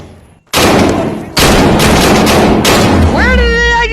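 Automatic gunfire in the Tactical Assault VR shooter bursts out loud and close in long sustained volleys, pausing briefly before another barrage, with a voice starting to speak near the end.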